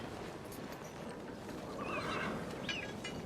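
A horse whinnies in a medieval film scene, with a rising, wavering neigh near the end over a dense, steady background of ambient noise and faint hoof clatter.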